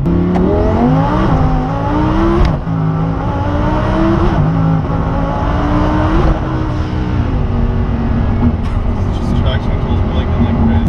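A twin-turbo Lamborghini Huracan accelerates hard, loud and close, its engine rising through several gear changes. Occupants talk over the roar.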